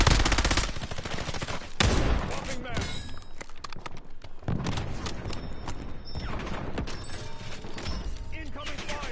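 Rapid bursts of automatic gunfire in Call of Duty: Warzone, dense crackling shots coming in clusters with brief pauses, loud and close, while players talk over the action.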